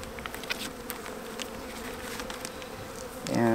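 Steady, dense buzzing of many honey bees at an open hive in late January, with a louder swell of buzzing near the end.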